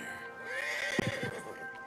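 A horse whinnies in Red Dead Redemption 2, a clear rising then falling neigh with a few snorting pulses, close and alone over a faint steady in-game background hum.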